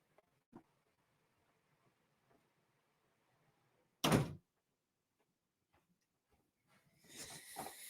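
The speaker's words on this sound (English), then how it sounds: "Let me go ahead and close this door." An indoor door swings shut with a single short, loud thud, standing out from a quiet room with a fan running faintly in the background.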